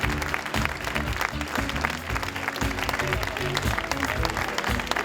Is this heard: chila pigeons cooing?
no